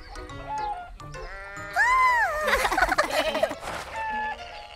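Several bleats from a goat or sheep, quavering cries in quick succession, close and fairly loud with some rustling between calls.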